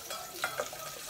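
Garlic sautéing inside a rice cooker, with a soft, steady sizzle and a couple of brief stirring scrapes near the middle.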